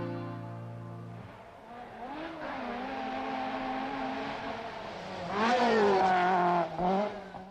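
Rally cars racing at the 1984 Finland 1000 Lakes Rally, engines revving hard and rising in pitch as they pass, swelling to a loud, close roar near the end before fading.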